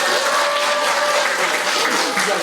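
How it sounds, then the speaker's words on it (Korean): Loud, dense applause from a large audience at a political forum in Busan, a continuous wash of clapping that fills the whole stretch without a break. "오늘 보니까 박수 소리가 억수 크게 나는데"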